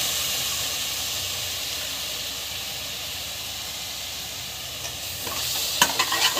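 Curd stirred into a spicy gravy in a hot pan, a continuous close sizzle and hiss with steady stirring, ending in a burst of louder scrapes and clatter, no talking.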